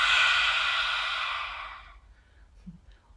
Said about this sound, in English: We're going to have a lion's breath, so just letting everything out